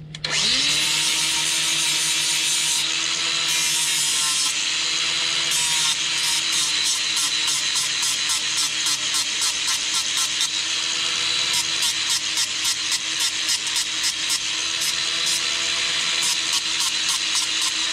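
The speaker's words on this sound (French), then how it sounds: "Je l'ai meulé un peu plus." Angle grinder buzzes loudly and steadily against a metal part during clutch replacement on a diesel Peugeot 207 1.4 HDi, a continuous harsh whine with rapid pulsing toward the end.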